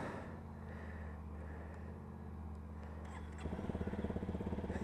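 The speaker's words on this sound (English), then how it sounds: "The 250 engine sounds so weird, but I love single cylinders." A Honda CRF250L single-cylinder 250 motorcycle engine idles with a steady low thumping, then revs up sharply near the end into a louder, pulsing beat.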